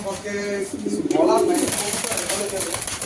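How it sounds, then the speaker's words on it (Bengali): A black racing pigeon coos in a few close, throaty bursts, with people talking over and around it and some restless movement. "খুব ছটফটে একটা কবুতর খুবই খুবই ছটফট একটা কবুতর"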